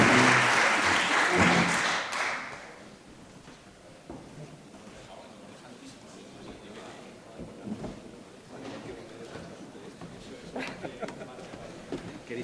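An audience at an industrial transformation panel session applauds, a loud burst of clapping for about two seconds that fades into room shuffling, movement and murmured talk.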